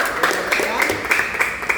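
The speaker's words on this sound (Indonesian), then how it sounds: "Tepuk tangan dulu untuk Rio." Audience applause for a student's answer during a classroom or church lesson, a steady patter of many hands clapping at moderate loudness, with faint voices mixed underneath.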